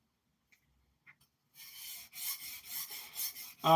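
A thin kitchen knife edge is stroked across a sharpening stone near the point, making a run of short raspy passes that come in close, repeated bursts after a quiet start.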